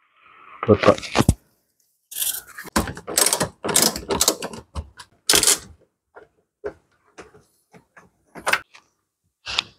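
A wrench works loose the bolts holding the undercover beneath a 2022 Mitsubishi Xpander during an oil change: close, irregular bursts of ratcheting clicks and metallic clanks and scrapes, with brief pauses between loud clusters and fainter taps toward the end.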